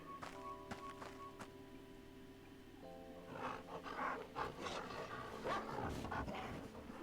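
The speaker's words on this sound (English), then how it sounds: "It's a dog." Dog in the Tower of Fantasy video game, heard as a burst of growling, panting and thumping noises that rises partway through over a quiet tonal game background.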